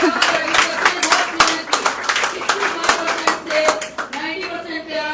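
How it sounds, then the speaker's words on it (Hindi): An audience bursts into applause for students in a classroom, with steady, fairly loud clapping from a group of people close by lasting the full few seconds. "एक बार जोरदार तालियां हो जाए इनके लिए"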